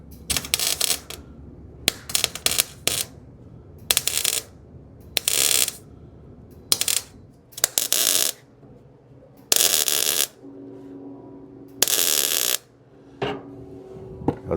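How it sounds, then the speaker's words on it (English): Tack welding on the trunk floor of a 1937 Lincoln Zephyr: close, loud bursts of crackling arc, several short zaps and a few longer sustained buzzes separated by quiet pauses, with no talking. "let me get the welder. I'm gonna start by tacking it onto this piece here"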